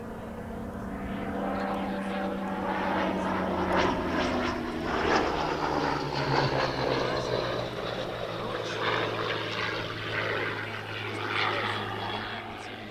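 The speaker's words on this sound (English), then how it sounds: "The Spad 7 that we see is a French-designed fighter, first flying in 1916." A French-designed 1916 Spad 7 WWI biplane fighter flies past at an Italian Air Force centenary airshow, its propeller engine droning steadily with rising and falling pitch as it passes, with a commentator talking over it.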